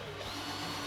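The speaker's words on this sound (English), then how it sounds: "I can drill some tap holes with an 1/8 inch drill bit." Power drill whirring steadily as a 1/8 inch bit bores tap holes in the metal bed of a 2008–2010 Ford Super Duty pickup, a short continuous close-up whine with no pauses.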